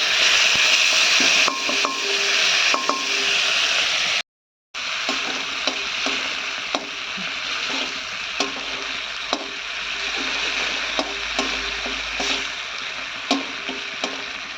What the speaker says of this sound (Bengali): আর এই যে এখানে টমেটো আর আদা বেটে রেখেছি, সাথে একটু লঙ্কা গুঁড়ো আর হলুদ গুঁড়ো দিয়ে দিচ্ছি।